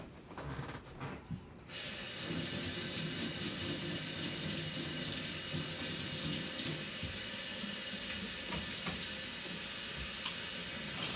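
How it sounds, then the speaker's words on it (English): Tap water runs steadily into a sink while hands are washed, a constant close hiss of flow that starts after a second or two of handling noises and continues unbroken. "20 seconds, washing my hand."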